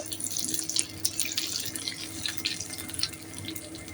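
Liquid being poured into a pot of Kerala dal curry with drumstick leaves, a continuous close splashing trickle with small irregular gurgles, moderately quiet and steady throughout, with no talking.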